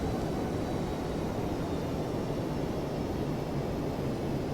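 Airliner jet engines in flight winding down as the throttles come back during the start of descent, a steady loud broadband roar heard from inside the aircraft.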